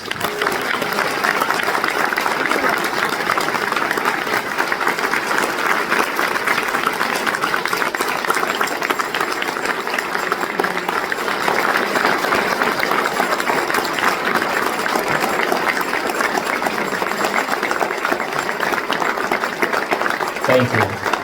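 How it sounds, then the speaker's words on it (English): A large audience at an Honor Flight gathering applauds the volunteer team, sustained, even clapping rolling on for about twenty seconds before tapering at the end. "they deserve a round of applause"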